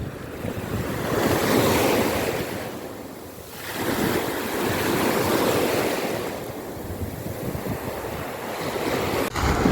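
Sea waves roll and break in slow, steady swells, swelling and easing twice with wind buffeting the microphone throughout; no voices.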